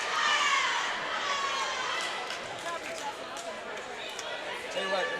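Armada women's dodgeball team performing a dancing cheer on the court at a national championship bronze medal game, heard as a steady wash of crowd noise, chatter and shouts in an indoor gym, with scattered squeaks and bursts.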